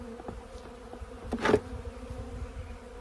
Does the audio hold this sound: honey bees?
yes